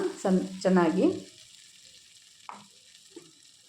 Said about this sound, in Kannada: ಹಸಿ ವಾಸನೆ ಹೋಗೋವರೆಗೂ ಫ್ರೈ ಮಾಡ್ಕೊಳ್ಳೋಣ